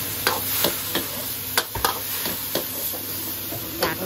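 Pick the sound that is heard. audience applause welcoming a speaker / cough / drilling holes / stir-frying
stir-frying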